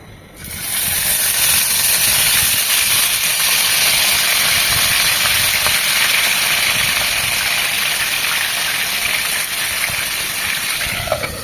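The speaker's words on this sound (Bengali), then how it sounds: "বোয়াল মাছ অতিরিক্ত ফোটে, তৈলাক্ত মাছ, তাই অবশ্যই এরকম ঢাকনা ইউজ করবেন, তা না হলে তেল ছিটে আসবে" Boal fish sizzles in soybean oil in a covered pan, a loud steady hiss with dense crackle that holds close and unbroken throughout.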